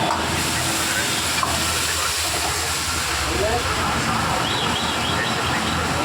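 Onion and capsicum momo filling frying in a pan, a steady close sizzling hiss running throughout, with people talking over it.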